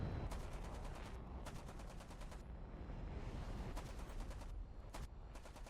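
Hispano cannons firing from a Gloster Meteor in a video game, several rapid bursts of dense rattling shots over a constant engine roar, loud and close.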